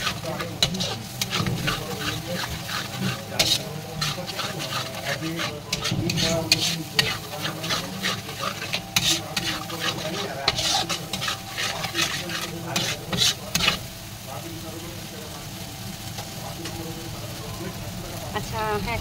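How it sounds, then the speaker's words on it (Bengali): Masala being stirred and sautéed in hot oil for Bahari chicken, with close, rhythmic scraping strokes over a constant sizzle and some background voices. "আচ্ছা, একটুখানি কষিয়ে নিলাম।"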